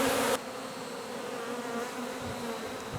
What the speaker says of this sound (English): Lots of bees in the air.